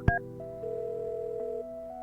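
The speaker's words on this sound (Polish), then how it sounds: "Zadzwoń do pokój w akademiku." Telephone dialing tones in the video game Kathy Rain: a click of the handset, then a sustained steady tone that shifts pitch as numbers are dialed, clean and close with no voices.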